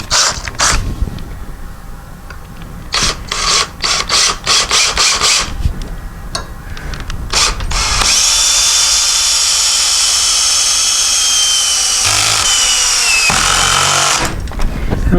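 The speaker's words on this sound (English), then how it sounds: "so we're just going to start the screw here" Power drill driving a soap-lubricated screw into old wood while repairing a garage door opener, with short bursts of the drill and creaks early on, then a long sustained whine of driving near the end.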